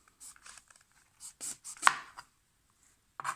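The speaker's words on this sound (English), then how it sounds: "Chop off the head. Slit on both sides." A knife chops and slits a brinjal on a board: a handful of separate, close cuts and taps with one sharper knock, spaced by silent pauses.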